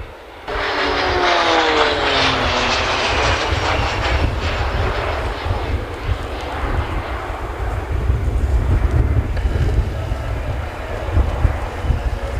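A formation of RAAF Roulettes aircraft in an aerobatic display passes overhead. A loud, sustained propeller-engine roar sets in abruptly and then holds with a shifting, wavering tone throughout, with no talking.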